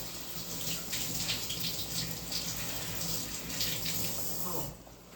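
A kitchen tap runs steadily as salad ingredients are rinsed under it, a continuous splashing gush close by that cuts off near the end, with no voices.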